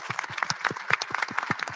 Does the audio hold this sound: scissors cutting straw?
no